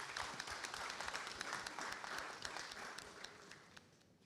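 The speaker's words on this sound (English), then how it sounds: "Can we give Councillor Dyer a big round of applause, please?" A conference audience claps for Councillor Dyer, a steady, moderately distant round of applause with individual claps audible, slowly thinning and fading toward the end.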